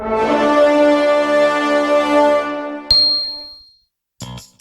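A notification bell sound effect rings out as a bright ding that rings for a few seconds over a sustained chime, followed by a short sharp metallic clang and a fading tail, with brief jingling near the end.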